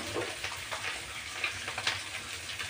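Mustard oil with a pinch of salt sizzles steadily in a pan, a dense close crackle with small sharp pops scattered through, no voices.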